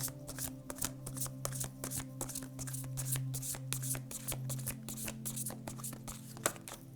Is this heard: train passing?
no